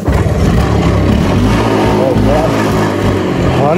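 A 30-year-old Bajaj Chetak scooter's small two-stroke engine chugs and revs loudly and steadily, a continuous sputtering drone close by with no pauses.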